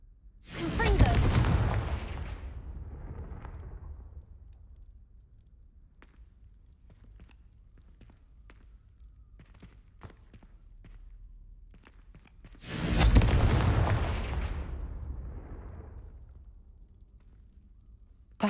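Confringo fire spell in Hogwarts Legacy video game bursts in two loud whooshing blasts, the first near the start and the second about twelve seconds later, with quiet footsteps and faint clicks between them.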